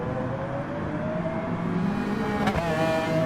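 Race car engine whine in a racing game at the Red Bull Ring, a steady, loud, continuous tone that holds throughout with a brief burst partway through.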